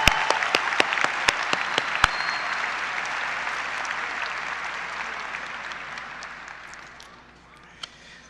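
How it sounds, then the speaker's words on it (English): A crowd applauds steadily with sharp individual claps up front at a high school graduation, sustained for several seconds before gradually thinning and fading out. "Give yourselves a large round of applause."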